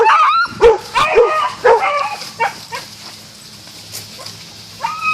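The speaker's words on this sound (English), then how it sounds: "When you see vicious dogs on a trail, you just ignore them." Several dogs barking and yipping on a park trail at Balinger Creek, a rapid cluster of loud, close barks with some whimpering, then scattered fainter yips, with a sharp bark returning near the end.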